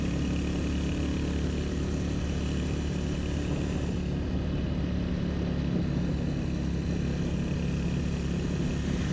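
A blue Royal Enfield Hunter 350 motorcycle is being ridden, giving a steady, unbroken drone of engine and wind roar that holds at an even level throughout, with no voices.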